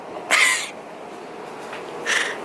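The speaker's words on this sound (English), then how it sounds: "These are French seagulls." Two harsh seagull calls ring out a couple of seconds apart, moderately loud over quiet outdoor background hiss, at a harbor in Cannes, France.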